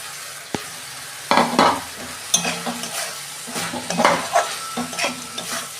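Okra goes into hot oil in a pan and is stirred, with bursts of close sizzling frying and the scrape and clink of a spatula against the pan at irregular intervals, no talking.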